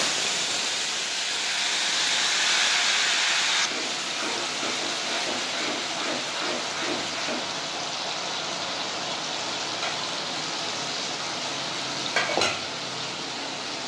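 A ginger, garlic, tomato and green chilli paste hits hot oil with a loud, broad sizzle that settles into a steady frying hiss, with faint stirring scrapes and a brief clatter near the end.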